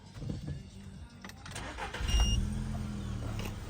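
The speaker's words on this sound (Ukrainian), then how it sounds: "перевірка стану роботи двигуна." The 1.6 MPI engine of a 2008 Volkswagen Golf 5 running on LPG cranks and catches, then settles into a steady, close running rumble.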